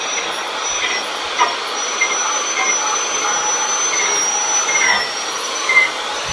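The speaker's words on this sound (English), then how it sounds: "Wire wheel." A wire wheel grinds bark off a live edge wood slab as a continuous loud, high whirring hiss, with slight surges where it bites harder into the wood.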